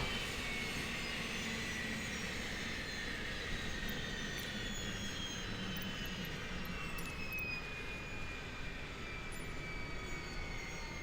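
Business jet engines in a flight-simulator game settling after being switched off, a steady low whine and broadband hum with faint high tones gradually falling, quiet and continuous with no talk.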